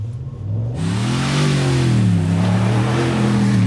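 A 2020 GMC Sierra pickup's engine roars as it revs hard off-road, pitch climbing and wavering through throttle surges, loud and close throughout.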